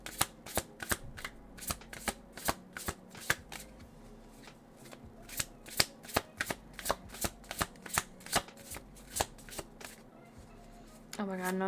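Tarot cards being shuffled by hand in quick crisp riffling bursts, close up and sharp, continuing for several seconds before a voice starts speaking at the end.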